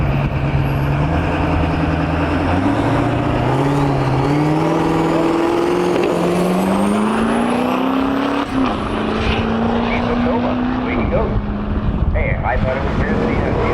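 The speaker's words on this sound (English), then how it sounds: "Diesel Nova 758 at 92 mile an hour. Man, that thing sounds incredible." A Duramax diesel-swapped Chevy Nova roars down a drag strip, its engine note climbing steadily through the gears in a loud, continuous pull with rising pitch, while a voice talks over it.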